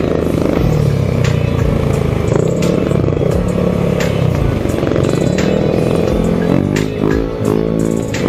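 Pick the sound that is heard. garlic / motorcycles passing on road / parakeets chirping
motorcycles passing on road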